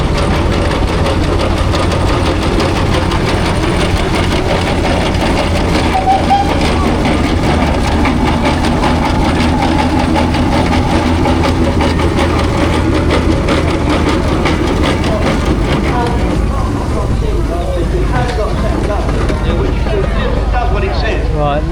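A steam traction engine runs steadily in a parade at the Tinkers Park steam rally, its heavy low rumble and mechanical clatter continuous throughout, with faint voices in the background.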